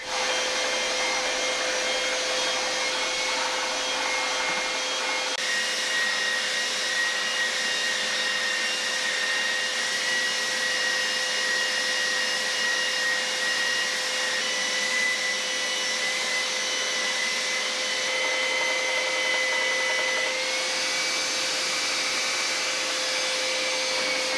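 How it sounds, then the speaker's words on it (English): A random orbital sander works a spalted beech board for a live-edge wall ruler, a steady loud whirring drone with a faint high whine that runs unbroken throughout. "moving on to the random orbital sander to work on the finish"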